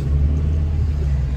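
A car rumbles low and steady from inside a moving car as another vehicle crosses close in front, with no talk.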